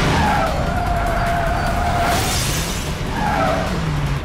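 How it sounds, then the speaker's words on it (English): Tires skid and squeal during a film car chase through London streets, with a roaring engine underneath; two long, loud screeches sweep across, separated by a brief lull. "had an amazing car chase"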